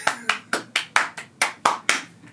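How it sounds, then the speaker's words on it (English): A single person claps about eight times at an even, moderate pace, each clap crisp and close, with no voices underneath. "Let's give her a round of applause."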